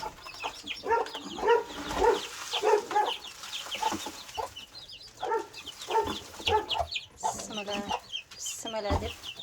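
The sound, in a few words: hen with chicks clucking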